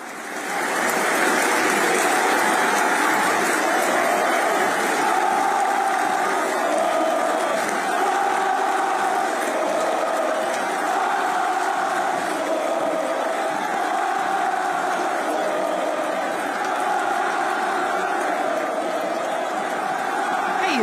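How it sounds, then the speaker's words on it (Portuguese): Vasco da Gama supporters at São Januário reacting at the final whistle after their team's home elimination: a dense, continuous roar of a large stadium crowd with shouting and chanting, sustained and loud throughout. "no final do jogo, apito final, o Vasco eliminado em casa e a torcida reage dessa maneira, ó"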